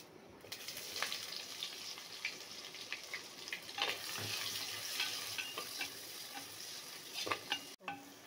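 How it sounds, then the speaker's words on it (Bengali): Chopped onions frying lightly in a pan over a tempering of bay leaf, dried chilli, cinnamon and cumin for handi chicken: a soft, continuous sizzle broken by scraping stirs, with no talk. "পেঁয়াজটা আমি হালকা ভেজে নেব"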